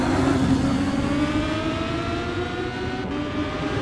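Race car engine in Gran Turismo 6 at Bathurst, accelerating out of a corner with a steady, fairly loud whine whose harmonics shift as revs build. No voices.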